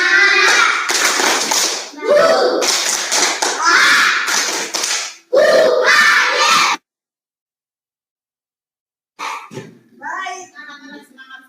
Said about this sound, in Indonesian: Tepuk tangan semangat dulu